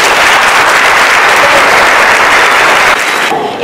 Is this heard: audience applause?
yes